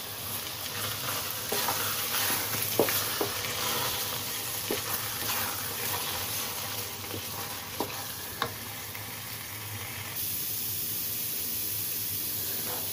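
Grated carrot roasting in desi ghee for carrot barfi gives a constant close, dense sizzle, with a few soft spoon taps and scrapes scattered through it.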